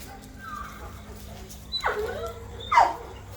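A dog whimpers nearby on a farm with puppies, a faint whine followed by two sharper, high-pitched yelping whimpers, with no talking.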